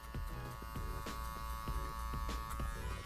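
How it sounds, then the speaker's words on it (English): Electric hair clippers buzz steadily while a barber cuts hair clipper over comb during a skin fade, a constant close-up electric drone with repeated soft snips and brushing strokes. "show you guys what it would look like with clipper over comb"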